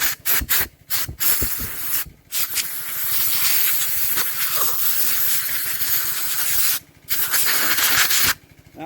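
Compressed air blasting old fuel out of the carburetor bowl on a 25-year-old V-twin lawn tractor, a loud close hissing rush in several bursts with short pauses, the longest blast lasting about four seconds.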